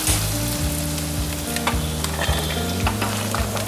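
Dry red chilies and curry leaves crackle and sizzle in hot oil for a dal tempering, a steady loud fry with occasional pops and stirring scrapes throughout, no voices.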